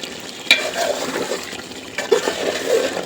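Beef being braised and stirred in oil in a pot, giving a steady low sizzle with scraping spoon strokes and a couple of sharper clinks, heard close with no talking.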